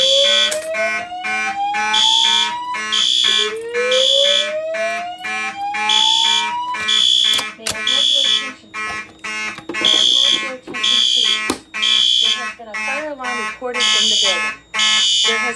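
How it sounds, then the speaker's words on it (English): Notifier NFS2-640 fire alarm system in test, loud repeating horn tones interleaved with rising sweep tones of a voice evacuation sequence, pulsing in regular bursts that become choppier near the end. "now I'll activate the second conventional pull station so y'all can hear the voice message"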